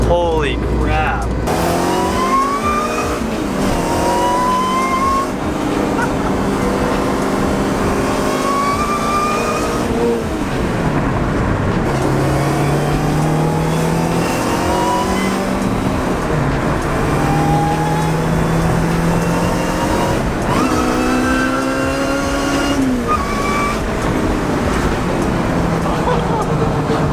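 Mitsubishi Evo 8 with a custom turbo manifold revs hard and loud through repeated rising engine sweeps, with voices talking excitedly over the close-up engine noise.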